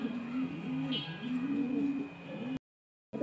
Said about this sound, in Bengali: এক জোড়া টপ কোয়ালিটির হাই ফ্লেয়ার গিরিবাজ কবুতর